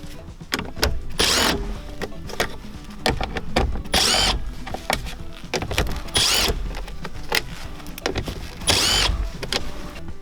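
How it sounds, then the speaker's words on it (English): A socket driver backs out screws from the center console of a Toyota Tacoma, giving repeated whirring bursts between rattles, clicks and handling noises, close and steady throughout. "Now we can take an 8mm socket and remove these 4 screws."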